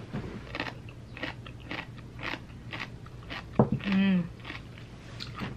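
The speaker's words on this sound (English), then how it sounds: "I don't know if you can hear the crunch" One crisp crunchy bite into food, close and brief, amid ongoing talking.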